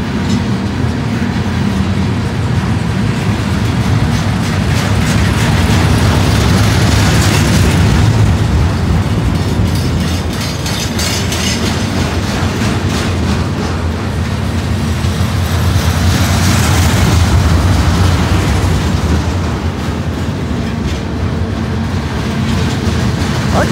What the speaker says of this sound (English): Big slabs of steel.